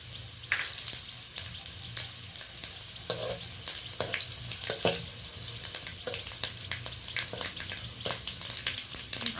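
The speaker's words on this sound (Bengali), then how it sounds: "অল্প ছোট চামচের 1 চামচ আমি সর্ষে ফোড়ন দিয়ে দিলাম, আর 2টো শুকনো লঙ্কা দিয়ে দিলাম" Mustard seeds and two dried red chillies sizzle steadily in hot oil, a continuous close crackle with brief scattered pops and faint clinks throughout.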